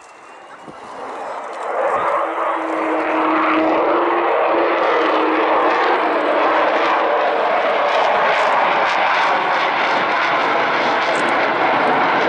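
An Avro Vulcan bomber roars in over an airfield, its jet engines swelling from a distant rumble to a loud, broad, sustained howl that holds steady as it passes near.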